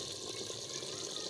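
Water is poured into a handi pot of chicken and potato curry, making a continuous soft rushing splash that stays fairly quiet and even throughout.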